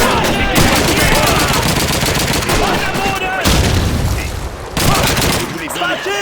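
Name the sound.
grenade explosion and gunfire in the video game Call of Duty 2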